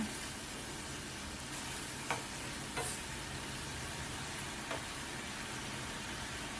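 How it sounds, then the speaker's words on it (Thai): Beef stir-fries in a pan with oyster sauce and sugar for Thai basil beef, a steady broad sizzle with a few brief scraping stirs of the spatula, fairly quiet and without talking. "พัดคลุกเข้าให้เข้ากันค่ะ"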